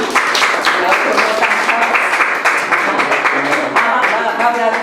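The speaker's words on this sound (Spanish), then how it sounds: "damos un aplauso a los chavos" A crowd at a theology class applauds steadily, dense clapping filling the whole stretch with a few voices mixed in underneath.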